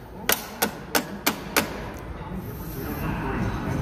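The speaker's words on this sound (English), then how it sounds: "Once you get that clip started, all you got to do is tap it on in." Five sharp, evenly spaced taps as a plastic clip is driven onto a Kenworth T680/T880 truck mirror during CB coax replacement, each a crisp close knock, then a quiet steady background.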